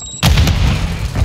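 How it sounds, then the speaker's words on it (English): A Semtex grenade goes off in Call of Duty Modern Warfare 2 Team Deathmatch on the Shoot House map: a sudden loud, close blast that rolls into a sustained heavy rumble with scattered gunfire underneath. "Throwing Semtex."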